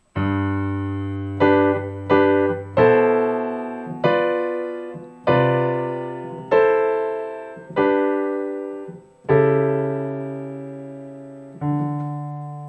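Solo piano plays the opening bars of the hymn Joyful, Joyful in a gospel style, with full sustained chords struck in a steady, unhurried series of about nine attacks, each ringing out and decaying, close and clear with no voices.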